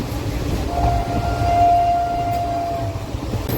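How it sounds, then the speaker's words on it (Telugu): A Tirupati superfast train sounds one long, steady horn blast while passing at a crossing, over loud continuous rumbling rail noise. "ఇప్పుడు మన క్రాసింగ్ అయిన ట్రైన్ తిరుపతి నుంచి సంతర్గజ్ వెళ్ళే సూపర్ ఫాస్ట్ ట్రైన్ అండి."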